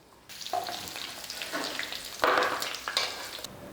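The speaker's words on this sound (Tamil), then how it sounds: "நல்லா பொரியட்டும்" Hot oil frying in a pan for prawn gravy, a continuous sizzle with bursts of crackling and a few sharper spits as the contents are stirred, close and fairly loud.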